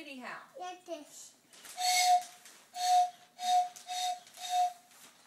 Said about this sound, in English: Is he gonna come blow the whistle?